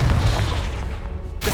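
Spell explosions from Bombarda and Confringo in Hogwarts Legacy, a low rumbling boom that rolls on and fades, with a fresh burst at the very end.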